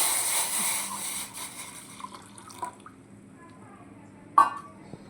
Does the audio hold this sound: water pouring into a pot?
yes